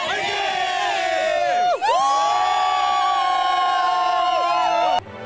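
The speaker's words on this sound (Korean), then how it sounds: "무등산에 오른 사람들은 호기로운 환호성으로 한 해를 시작했습니다" A large crowd on Mudeungsan mountain greets the New Year sunrise with loud sustained cheering and whooping, many voices shouting together and rising again after a brief dip, then breaking off abruptly.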